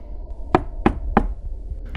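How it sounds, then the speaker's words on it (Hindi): Knocking from beneath a floor: three evenly spaced, sharp knocks close together, with a faint fourth near the end, over a low background hum. "उसके कमरे की जमीन से खटखट की आवाज आ रही थी"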